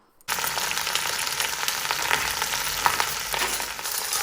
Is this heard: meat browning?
yes